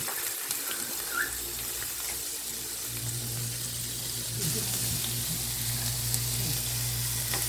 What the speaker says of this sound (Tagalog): Nagigisa na ako ng bawang, sibuyas, saka yung karne at atay.